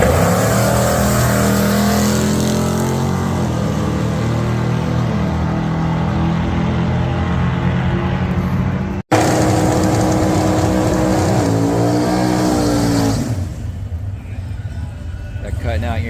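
A Chevy LUV drag racing car at a Coos Bay, Oregon drag strip roars loudly on its rev limiter around 7,800 rpm, holding a steady, buzzing, near engine note that cuts briefly and then resumes before easing slightly.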